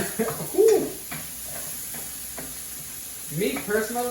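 Tofu and mixed vegetables stirred around in a hot frying pan, a steady soft sizzle and occasional scrape running beneath a person talking throughout.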